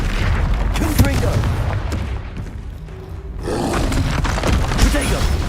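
Confringo fire spell blasts in Hogwarts Legacy combat, loud booming impacts with crackling bursts amid battle noise and shouted voices, a brief lull mid-clip before the explosions resume.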